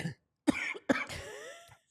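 Two sharp coughs close together, followed by a short throat-clearing rumble and a faint trailing cough, close and fairly quiet.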